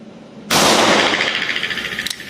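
A Smith & Wesson M10 .38 revolver with a 4-inch barrel fires a single loud, sharp shot one-handed at 15 m on a range, followed by a brief decaying ring.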